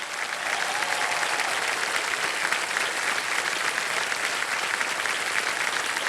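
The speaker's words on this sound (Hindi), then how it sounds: "तालियां बज जाएं इनके लिए।" A studio audience on a televised quiz game show claps steadily for child contestants, producing an even, uninterrupted roar of applause that fills the room without speech over it.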